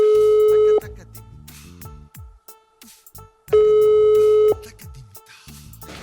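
A telephone call ringing in a household drama scene, two long electronic ring tones separated by a pause, fairly loud and close, with softer tonal murmur in between.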